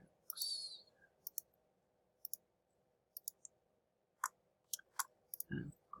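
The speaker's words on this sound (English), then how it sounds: "Click around, find something." Computer mouse clicks at a desk while working in image-editing software, scattered single and double clicks close up and fairly faint over quiet room tone, with brief breathy sounds between them.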